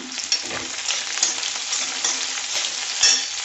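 Sambar onions fry in hot oil for fish curry, crackling steadily while a spoon scrapes and stirs them in occasional sharp clicks, near and without voices.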